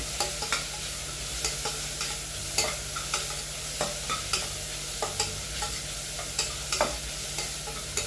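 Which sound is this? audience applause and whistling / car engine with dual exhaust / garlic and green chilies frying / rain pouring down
garlic and green chilies frying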